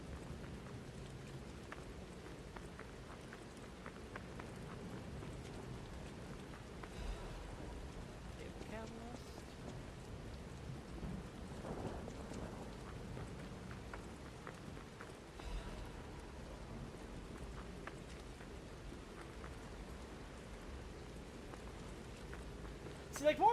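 Steady video-game rain hisses throughout as a dense wash, with low rolling thunder rumbles underneath and a voice occasionally present.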